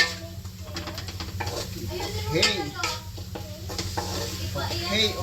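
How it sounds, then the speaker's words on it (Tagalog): Raw shrimp paste (bagoong) sautéed in a pan, a steady sizzle with repeated stirring scrapes, close by, with a voice talking over it at times. "Lutuin natin yung bagoong natin kasi hilaw yung bagoong na to."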